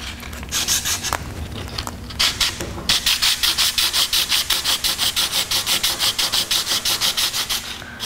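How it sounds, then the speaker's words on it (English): Coarse 50 grit sandpaper rubbed by hand over enamel-painted wood, starting with a few scattered strokes, then settling into a steady run of fast, even back-and-forth scrapes, close and loud with no talking. "This is 50 grit sandpaper, obviously not for finishing, but I'm going to run it over some parts of this."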